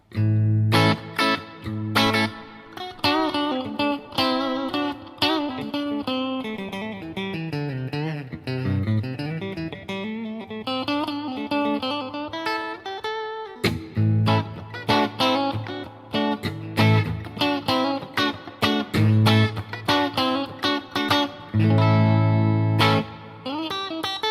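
Distorted electric guitar, a natural wood finish Stratocaster-style guitar, plays a lively riff with bends and sustained notes, punctuated by choppy chords, loud and close.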